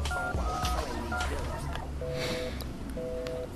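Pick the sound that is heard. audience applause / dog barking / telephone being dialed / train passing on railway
telephone being dialed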